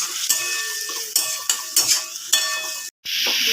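Spiced katla fish gravy masala with turmeric sautéing in a pan, a steady close sizzle broken by several sharp scrapes and stirs of a spatula, a brief silent gap near the end, no voices.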